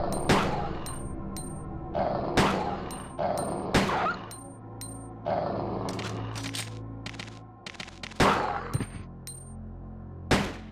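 Gunfire in the Resident Evil 2 video game: sharp, loud shots cracking out in irregular bursts, some in quick pairs, with brief ringing pauses between them and no voices.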